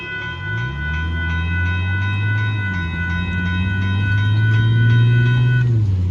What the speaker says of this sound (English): there goes the Northbound Amtrak Texas Eagle 22 running on time despite the grain train that's in front of them